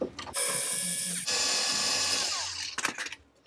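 Power drill or driver whirring in two sustained bursts while backing out non-original hinge screws from an old, battered cupboard, loud and close, with a brief clatter as the tool stops.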